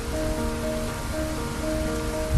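Steady rain falls in a dark night-time village scene near a deserted market, a continuous even hiss with no voices over it.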